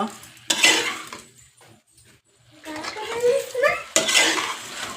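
A spoon stirs mushroom biryani mixture with coriander powder in a pot, giving bursts of scraping and clinking against the metal, separated by short pauses.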